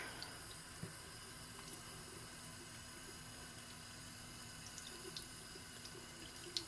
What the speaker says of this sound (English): Put the feather under the stream of the water.